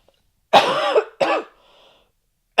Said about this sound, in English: might have to just mute and cough this one out, folks